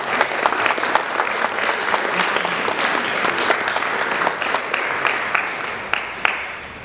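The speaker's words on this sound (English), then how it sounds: "should give yourselves a round of applause" Applause from the audience at a Davidson High School graduation ceremony: dense, sustained clapping with sharp individual claps standing out, heard throughout.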